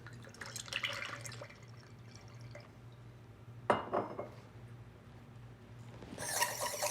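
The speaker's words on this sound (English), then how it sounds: "there's potential for a little bit of that cork to show through. So we're just gonna filter that real quick" Old 1998 red wine poured through a filter into a glass, a faint trickle and drip with a couple of brighter splashy moments, quiet and close.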